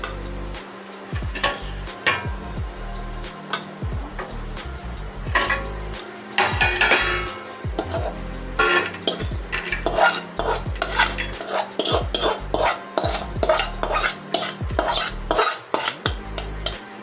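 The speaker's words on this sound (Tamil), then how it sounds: "அது வேறு ஒரு பிளேட்டுக்கு மாற்றிக்கலாம்." A spoon scrapes and clinks against a metal pan as cooked thuthuvalai is moved to another plate, giving irregular clatters and knocks across the whole stretch with no voices.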